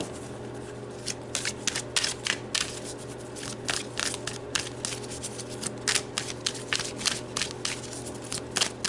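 Tarot cards drawn and handled in a reading: a close, steady run of crisp shuffling riffles and card snaps over a low constant hum, with no talking.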